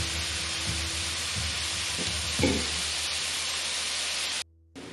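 Ground meat browning in a pan and being broken up, a steady loud sizzle with a few scraping stirs, ending in a brief cut to quiet.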